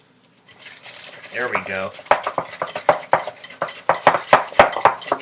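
Eggs whisked in a bowl, a near, quick rhythmic run of clinking strokes against the bowl that starts after a brief spoken phrase and keeps going steadily.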